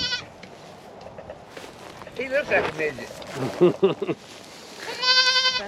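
Goats bleat on a farm, a wavering bleat near the start and a louder, closer one at the end, with someone talking briefly in between.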